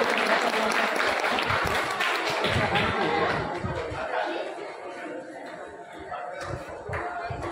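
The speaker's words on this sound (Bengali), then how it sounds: "সবার একসাথে হাততালি হয়ে যাক" An audience applauds together at a group meetup event, dense clapping loudest at first and tapering to scattered claps, with chatter and a little laughter mixed in.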